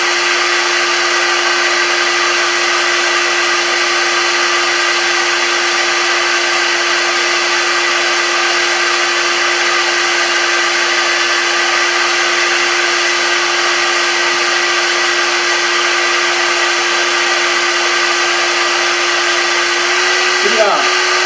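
Hair dryer running with its heat setting on, a loud steady whir and rushing airflow with a constant motor hum that continues unbroken, ending with a faint click or handling noise.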